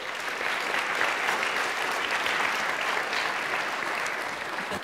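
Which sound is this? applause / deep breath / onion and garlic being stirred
applause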